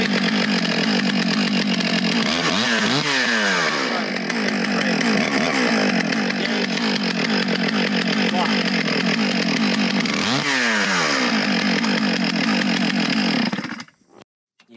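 A Stihl MS 661 Magnum chainsaw runs loud and close, its engine roaring steadily with two rising and falling revs before cutting off abruptly near the end.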